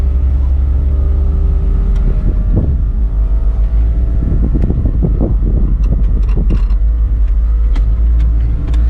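A 1960 Cadillac Coupe DeVille with air ride and A/C on the move, its steady, loud engine rumble buffeted by wind noise throughout, with no talking.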